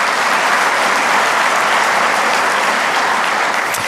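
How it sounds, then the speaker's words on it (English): Sustained applause from a convention audience at a bowling congress annual meeting, thanking industry partners; a steady, dense wash of many hands clapping, loud and even throughout with no talk over it. "A round of applause, please, for our partners."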